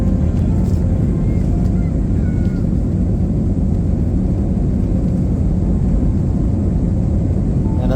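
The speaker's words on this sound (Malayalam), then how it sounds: "റൺവേയിലേക്ക് നീങ്ങിക്കൊണ്ടിരിക്കുകയാണ് നമ്മളെ ഫ്ലൈറ്റ്" A passenger jet on a flight bound for Yerevan, Armenia, taxis toward the runway before takeoff. From inside the cabin, its engines make a steady, loud low rumble that continues without a break.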